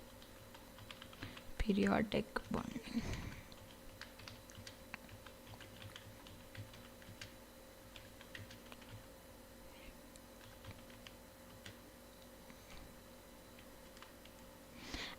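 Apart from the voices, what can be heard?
typing on a computer keyboard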